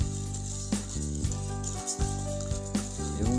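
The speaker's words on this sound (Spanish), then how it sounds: "se cocina el café aquí ya." Coffee cooking in a pan while being stirred, a steady loud sizzling hiss with scraping stir strokes recurring every second or so, close up and with no talking.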